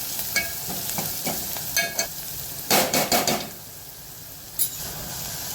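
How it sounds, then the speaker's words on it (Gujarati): Onion, garlic and chili frying and being stirred in a pan, a soft sizzle with a cluster of sharp utensil scrapes and clicks near the middle and one more later. "હવે ડુંગળી, લસણ, મરચાં સતરાઈ ગયું છે।"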